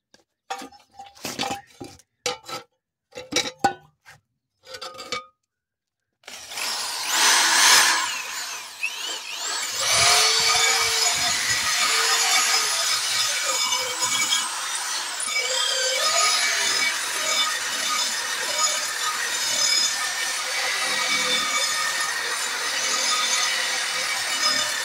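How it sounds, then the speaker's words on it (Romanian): A wire brush spinning on an electric drill scours a cast iron door from a tile stove, a loud continuous abrasive whirr and rasp after a few short bursts of tapping and clinking, running steadily to the end. "Am să le curăț cu o perie de sârmă atașată la o bormașină."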